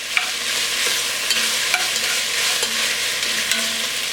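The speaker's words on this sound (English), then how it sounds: "let's throw our peppers in there. And I want to sweat these down almost like we're making a ragu" Bell peppers sautéing in a pan for peperonata make a loud, dense, steady sizzle up close, with occasional light clicks of stirring and no talking.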